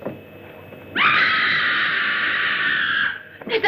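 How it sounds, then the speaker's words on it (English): A woman's long, shrill scream from the old horror film Horror of Spider Island, sustained for about two seconds after a quiet lead-in and ending abruptly, loud and alone. "That was a scream."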